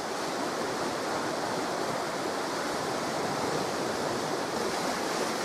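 Steady, loud wash of sea waves breaking on the beach right beside a lodge on Nosy Be, a continuous close surf roar with no talk over it.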